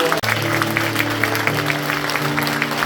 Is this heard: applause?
yes